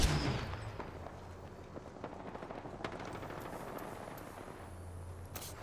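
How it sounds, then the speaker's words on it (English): Enemies in a video game open fire, a dense, continuous rattle of rapid gunfire under low rumbling, held at a fairly even level from start to finish. "The enemies are shooting at me."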